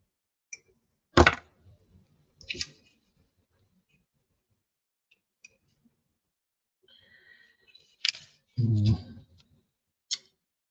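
Nippers trimming a part from an MPC Space: 1999 Hawk Fighter plastic model kit give a few sparse, sharp clicks and snips, close and quiet, with a brief murmur of voice near the end.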